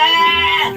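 A sheep gives a single loud, close, quavering bleat with a strong harmonic tone, fading slightly at the end.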